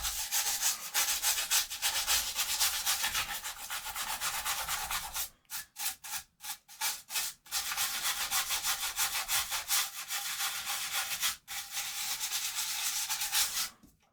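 A brush scrubs vinegar over the chips and resistors of an Amiga circuit board in a continuous, close scratchy rubbing, broken by a few short pauses and quick strokes midway before resuming steadily.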